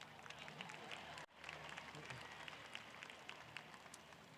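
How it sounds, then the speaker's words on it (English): Audience clapping at a school district graduation-related ceremony, a distant, faint crowd applause with scattered individual claps and a brief dip, voices faintly mixed in. "Yeah, you can clap for that."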